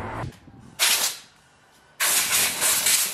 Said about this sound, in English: With a air blower at the moment, an air gun just to blow all the loose bits and all the crap out